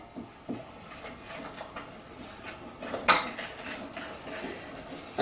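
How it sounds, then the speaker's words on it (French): A utensil clinks and scrapes against a bowl while egg white is gradually mixed into almond financier batter, with light irregular taps and one sharper clatter near the end, close and moderately loud with no voices. "Ensuite, vous allez mélanger petit à petit le blanc d'œuf"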